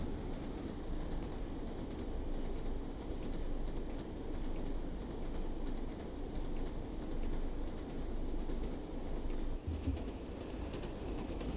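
A train rolls along the Tees Valley Line in Train Sim World 2, a low, steady rumble of wheels and motor holding at even volume throughout with no talk.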